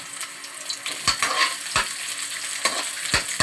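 Onions sizzle in hot oil in a frying pan for a chicken dish, a steady close hiss broken by several sharp scraping stirs of a spatula.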